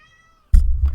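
A cat meows in the Yakuza 3 video game, in a deserted street: a single short, loud, close call that starts halfway through, after a quiet stretch with faint background game music.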